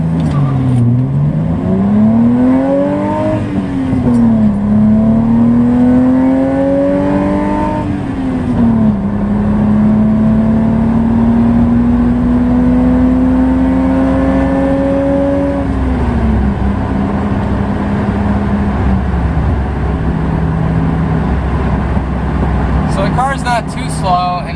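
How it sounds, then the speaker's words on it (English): A 1988 BMW E30 325ix engine revs steadily, its pitch climbing and dipping through gear changes, loud and close, running continuously throughout. "so that hopefully the camera picks up the engine noise and lets you hear what I'm talking about"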